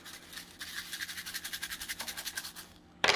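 Diamond painting drills shaken inside a closed container with a dryer sheet give a steady rhythmic rattling, close and moderately loud, pulsing about every tenth of a second before a sharper final clatter.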